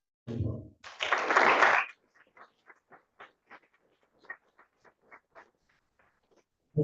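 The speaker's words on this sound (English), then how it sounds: "Please give our panelists a round of applause." A small audience at a community forum on Guam's war on drugs applauds its panelists. After a short burst of noise, thin, sparse claps follow at a steady pace, fairly faint and unhurried.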